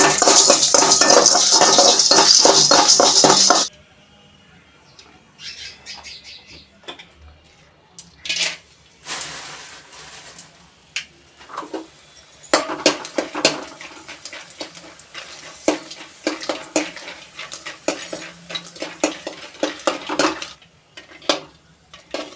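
Dry-roasting raw rice, mustard seeds, urad and chana dal, fenugreek, pepper and coriander seeds in a pan for a village-style kulambu, heard as a loud sizzle at first, then scattered scraping, stirring and clinking of metal on the pan.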